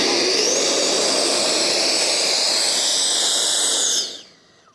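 A model jet aircraft's small turbine runs with a steady, high-pitched whining roar and hiss, then cuts off and spools down near the end.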